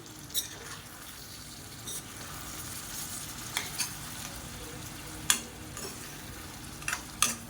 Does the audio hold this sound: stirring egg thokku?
yes